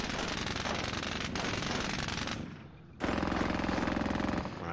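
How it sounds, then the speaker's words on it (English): A video game machine gun fires in long, sustained bursts of dense rapid rattle. It stops briefly, then resumes loud and close, with no voices over it. "Another machine gun here."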